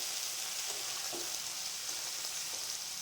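Potato pieces frying until reddish in a pan with salt and turmeric, cut drumstick pieces just added, give a steady, close hiss of sizzling oil throughout, with a few faint stirring scrapes.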